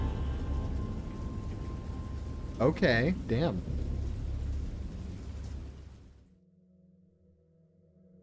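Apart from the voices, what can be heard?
thunder and storm effect in H.P. Lovecraft visual novel game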